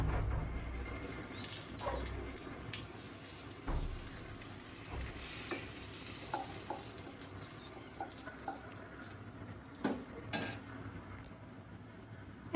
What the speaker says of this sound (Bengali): তেজপাতা দিলাম তেলে